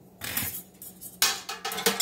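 Metal canning jar lids clink and rattle as they are dropped into a pot for sterilizing, a few close, bright clatters over two seconds with no talk.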